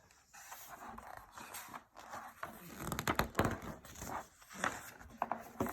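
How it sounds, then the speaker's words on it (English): A litter of newborn puppies belonging to a president's dog whimper and pant softly up close, with small squeaks and rustling movement rising and falling over steady low background noise. "It says, President's dog has puppies"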